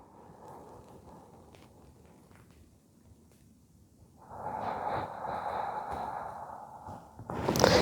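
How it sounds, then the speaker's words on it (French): Slow, deep breaths during a gentle yoga session: a soft breath in followed by a long, louder exhale lasting about three seconds, close and alone in a quiet room. "Encore 2 respirations nettoyantes."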